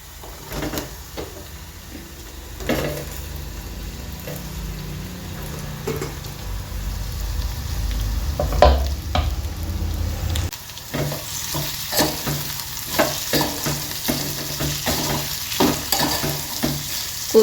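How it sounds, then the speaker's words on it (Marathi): Cooked potato pieces drop into a hot pan for a green-chili potato sabzi and get stirred, with steady sizzling and frying under repeated scraping stir strokes, close and fairly loud. "आता आपण बटाटे टाकून घ्यायचे आहेत शिजवलेले"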